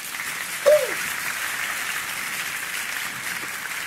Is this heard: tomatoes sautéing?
no